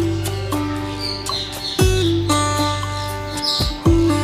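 Assorted caged birds in a small zoo aviary call close by, with repeated sharp chirps, whistles and squawks overlapping in an irregular chatter, loud and clear with no talking.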